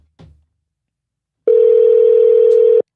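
A telephone dial tone while placing a call: a brief handset click, then a steady, loud, unbroken tone lasting over a second before cutting off abruptly.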